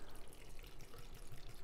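Vodka free-poured straight from the bottle without a measure on the back of a bus, a steady close liquid stream running unbroken for the whole stretch.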